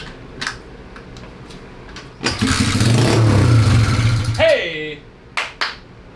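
A Honda Z50R mini bike engine under restoration fires and revs with the throttle opened, a loud, rough burst of a few seconds that then drops away, with people talking before and after.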